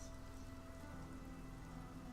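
Rain in the video game Sonic Frontiers falls as a steady, even patter and hiss of drops on surfaces, continuous and moderately faint, with a low hum underneath and no talking.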